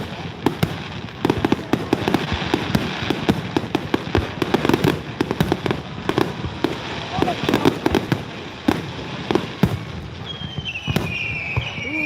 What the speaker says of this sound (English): Got the whistlers.